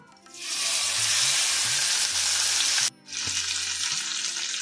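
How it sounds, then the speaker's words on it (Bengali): Masala-coated fish drops into a hot pan and bursts into loud, close sizzling that holds strong, breaks off for a moment, then resumes with a slightly softer frying hiss. "এবার আমি মাছটা দিয়ে দেব।"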